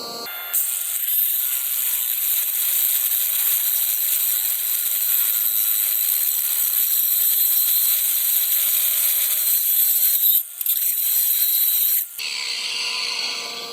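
Power tool grinding through a badly rusted frame on a 2012 Chevy Silverado 1500 4X4 5.3, a steady, loud high-pitched cutting whine that runs continuously for about twelve seconds with two brief dips, then stops, leaving a quieter hum.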